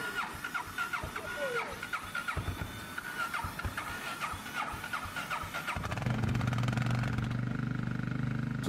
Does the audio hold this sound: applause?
no